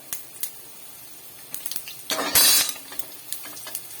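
Tempering of vadagam, manathakkali vathal and asafoetida being stirred in a pan, with light scraping and clinks and a short burst of sizzling midway, close and without talk.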